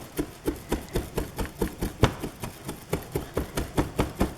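A knife chopping mint leaves finely on a board for a watermelon and feta salad, steady rapid thuds at an even rhythm, about four per second, close and clear without speech.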